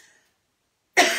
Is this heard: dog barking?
no